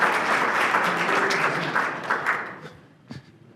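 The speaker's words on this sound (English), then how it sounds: "Give her a round of applause" Audience at a conference talk gives a round of applause for a participant, steady crowd clapping that thins out and ends with a few scattered claps.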